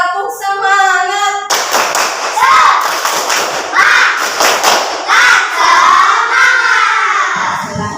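A classroom of children repeats the tepuk semangat clapping chant, loud rhythmic group claps mixed with shouted chant syllables, following a short spoken lead from an adult.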